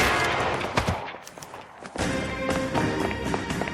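Gunshots ring out in the L.A. Noire video game: sharp, irregular cracks in quick bursts, with a brief lull before the firing resumes, fairly loud and close over a busy background.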